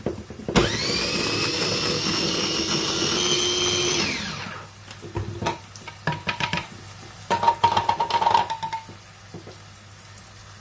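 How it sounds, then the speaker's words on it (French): An electric blender whirs loudly for about three and a half seconds while blending a tomato for a rice and minced meat gratin, then winds down, followed by scattered kitchen clatter. "Une tomate que je vais mixer"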